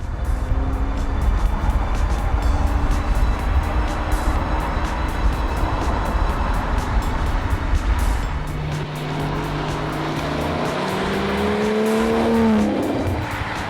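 An Aston Martin Vanquish supercar drives past with a loud, steady engine roar, then rising revs with shifting tones as it accelerates, close and alone with no talk.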